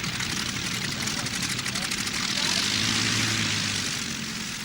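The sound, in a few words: Junkers 52 transport plane propeller engines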